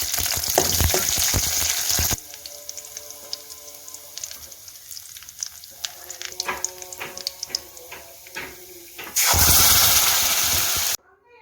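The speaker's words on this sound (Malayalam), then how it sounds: "അല്പം സൺഫ്ലവർ ഓയിൽ ഒഴിച്ച് നമുക്കിതൊന്ന് താളിക്കാം" Chutney being tempered in hot sunflower oil in a pan: loud bursts of sizzling and spattering open and close the stretch, with quieter crackling, clinks and stirring in between.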